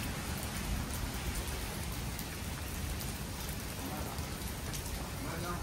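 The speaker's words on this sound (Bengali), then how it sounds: "এত বৃষ্টি, বৃষ্টির মধ্যে বের হয়ে গেছি আমরা" Heavy rain pours steadily outdoors in a Chinese city, a dense, even hiss of drops striking the ground and surfaces throughout, close and loud with no break.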